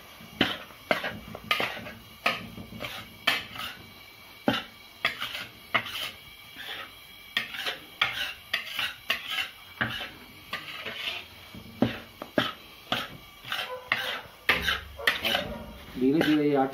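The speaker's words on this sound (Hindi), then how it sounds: "मंदी आंच पर इसको सेक रहे हैं।" Metal spoon scraping and clinking steadily in a pan as wheat flour roasts in ghee over low heat for Rajasthani gond laddu, with repeated sharp stirring strikes and a faint sizzle underneath, close and fairly loud.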